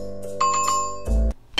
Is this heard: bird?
no